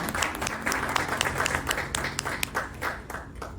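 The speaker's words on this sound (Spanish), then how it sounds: "Un aplauso, por favor." Audience claps for a guest at a Spanish-language book presentation. Steady applause from a moderate crowd fills the whole stretch with dense, even clapping and no voices over it.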